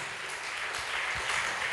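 A church congregation standing for prayer applauds, a dense, continuous wash of clapping heard from within the crowd, steady and moderately loud throughout.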